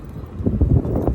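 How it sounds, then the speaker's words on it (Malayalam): Wind blows outdoors as a low, rumbling buffeting that swells and gusts through the short stretch. "ഈ കാറ്റടിക്കുന്ന"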